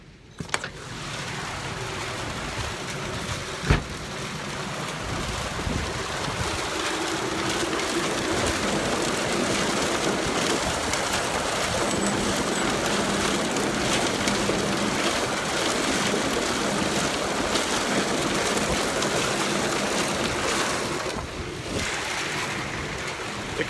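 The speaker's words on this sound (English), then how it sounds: "we make sure it's coming down, turn on the elevator" A farm elevator runs steadily while feeding out corn silage, a continuous loud broadband rumble and rush with wind buffeting the microphone, holding nearly constant throughout.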